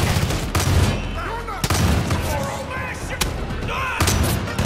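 Gunfire in the video game Far Cry 5, a few sharp loud shots punching through a busy stretch of in-game noise, with voices talking underneath.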